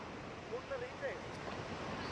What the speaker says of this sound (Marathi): अतिशय सुंदर हा समुद्रकिनारा आहे